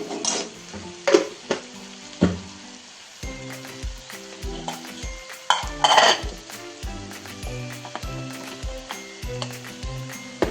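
Masala sizzling and frying with onions in an oily pan for a Maharashtrian mutton dish, steady crackle with repeated clinks and scrapes of a spoon stirring against the pan.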